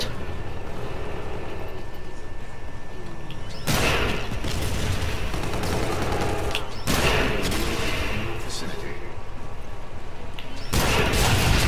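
Grenade launcher fire and explosions in Call of Duty: Infinite Warfare, a continuous loud din of combat with three sharp heavy blasts that break through the steady background roar.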